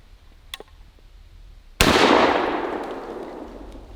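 A single-shot break-action shotgun fires one loud blast at a steel plate, a sharp report with a long fading tail, preceded by a faint click.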